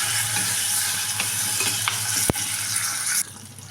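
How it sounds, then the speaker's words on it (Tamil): Okra sautéing in a pan with tempered spices for a poovalai fish curry, a steady loud sizzle with stirring scrapes throughout and a sharp clink near the middle, no voices. "வெண்டைக்காய் வெண்டைக்காய் சேர்த்து வதக்கிட்டுக்கிறேன்"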